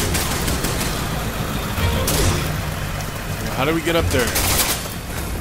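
A continuous, dense crackle of gunfire during a Resident Evil 6 battle, like a steady fusillade, while someone talks over it.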